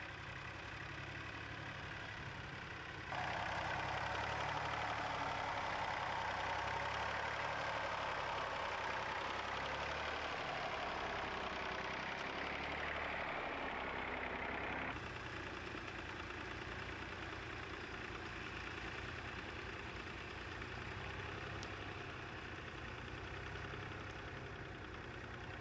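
Several Dexter tractors run together in a field, the oldest dating from 1958, giving a steady low engine drone with knocking pulses that holds constant and swells slightly for a stretch in the middle.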